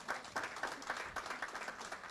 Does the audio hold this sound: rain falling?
no